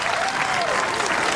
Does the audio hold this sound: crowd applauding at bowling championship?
yes